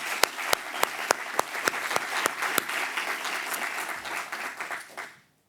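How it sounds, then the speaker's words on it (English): Audience applause at an evening launch event, a dense wash of clapping with a few loud individual claps standing out near the start, sustained for several seconds before fading out abruptly. "So I'd love for everyone to give a round of applause to the CEW team."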